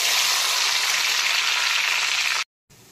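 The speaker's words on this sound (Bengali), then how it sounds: "এখন মাছ আর আলু ভাজার তেলেই দিয়ে দিচ্ছি গোটা গরম মশলা, গোটা জিরে, তেজপাতা, শুকনো লঙ্কা, কালো জিরে আর সাদা জিরে ফোড়ন।" Whole garam masala, cumin, bay leaves, dried red chilli, nigella and white cumin crackle in hot oil left from frying fish and potatoes, a loud, steady, close sizzle that cuts off abruptly near the end.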